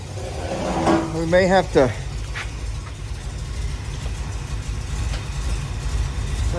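A 1982 Dodge Ramcharger engine idles on its own with a steady low rumble, close by, continuing under someone speaking.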